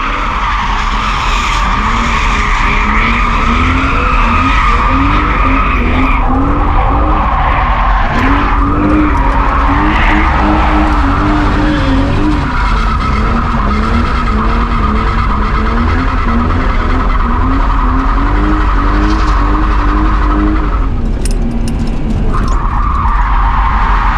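A car drifting at a celebrity drift event, with loud continuous tire skidding and squealing over a steady revving engine throughout, up close and dominant with no talk.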